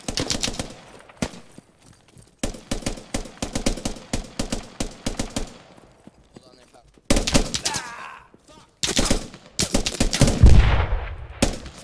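Rapid bursts of gunfire from the video game Squad, sharp repeated shots in clusters with brief gaps, some close and loud, mixed with players talking over voice chat.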